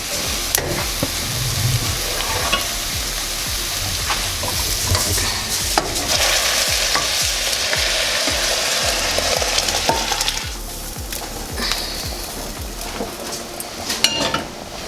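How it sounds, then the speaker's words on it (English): Boiling water poured onto rice in a hot pot for rice and peas in a restaurant kitchen: a loud, steady sizzle and hiss with stirring scrapes and clinks throughout, easing slightly near the end. "I'm going to add this water to our rice."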